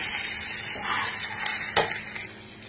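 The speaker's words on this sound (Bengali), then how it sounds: "এইভাবেই আমি সবগুলো ভেজে নেব।" Steady sizzling of pizza components frying in a pan, close up, with occasional scrapes and taps from a stirring utensil; no talking.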